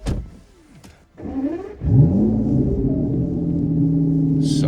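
An Aston Martin fitted with an aftermarket exhaust, heard up close as the engine rises from a quiet lull into a loud, steady droning exhaust note that holds to the end.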